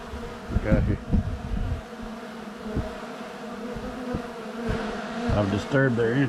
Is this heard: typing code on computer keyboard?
no